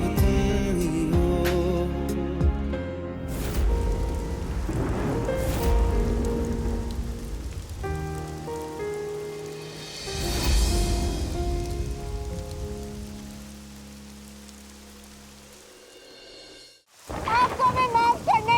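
Rain falls steadily on surfaces in a television drama scene, a continuous hiss beneath music, with a pause near the end before the sound returns.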